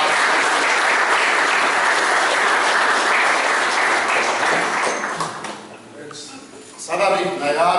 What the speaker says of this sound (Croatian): volim još jedan gromoglasan aplauz za naše vlade